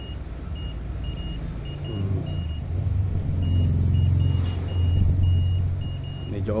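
A Fluke 101 multimeter's continuity buzzer gives short, evenly repeated beeps, faint and thin beneath a heavy, steady low rumble of background traffic noise.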